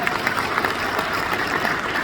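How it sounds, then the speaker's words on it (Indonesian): An audience applauds the deputy head of the education office at a school anniversary event held at a university, producing a steady, dense wash of clapping with no gaps across the whole moment. "Tepuk tangan buat beliau."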